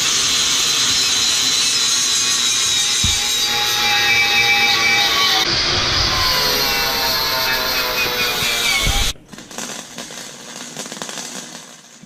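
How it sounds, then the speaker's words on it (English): An angle grinder cuts down rough welds on a Jeep Comanche pickup in a V8 swap, a loud steady abrasive whine lasting about nine seconds before it drops off and leaves quieter shop noise. "I'm just grinding off these booger welds."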